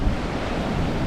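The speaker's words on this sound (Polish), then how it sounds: "te rozbijające się fale o brzeg" Waves break on the shore at Formentera, a loud, continuous wash of surf mixed with wind buffeting the microphone.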